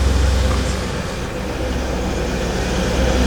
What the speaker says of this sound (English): It sounds like a race car.